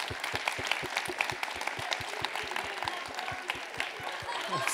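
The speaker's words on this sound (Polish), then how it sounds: "chciałem bardzo gorąco podziękować i prosić o oklaski Ziemowit-Szczerek" Audience applause at a live talk event, a steady bed of many hands clapping with a regular rhythmic beat pulsing underneath, fairly loud throughout, with some voices mixed in.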